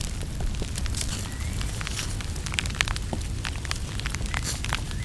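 A campfire burns outdoors on a rainy camping trip by a river, giving a low rumbling bed with scattered sharp crackles and pops throughout, fairly quiet and with no voices.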